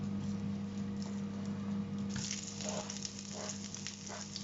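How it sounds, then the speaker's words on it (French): Onions sizzle and crackle in the bowl of a 4.5-litre, 1500-watt Smartfryer XL air fryer, making a steady, dense frying hiss over a low electrical hum, with faint stirring noises partway through. "On met les oignons là-dedans pour les faire revenir un petit peu."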